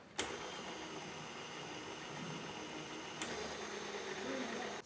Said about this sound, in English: Now I'm gonna get out my stand mixer, put the dough hook in, and just let this knead till it all pulls apart from the bowl.